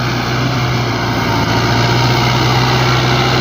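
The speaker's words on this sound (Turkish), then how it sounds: "sürüş denemesi yapıyoruz. Traktörümüz TR510." A TR510 tractor engine, hitched to a nine-shank automatic chisel plough, runs steadily at a loud, low idle, a constant droning rumble with no other sounds.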